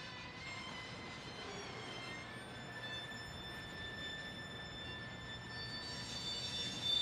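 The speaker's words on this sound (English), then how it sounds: "with the trains operating in front of the grain elevator as a backdrop" Freight train passing in front of a grain elevator at the Saginaw, Texas depot, a steady distant rumble with faint high squealing tones, swelling slightly louder toward the end.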